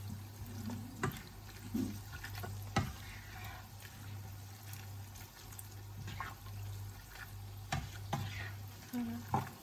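Creamy pasta with chicken and mushrooms is stirred in a pan, with soft scraping and wet sloshing over a steady low sizzle and hum, close by, with occasional sharper knocks of the utensil; no one speaks.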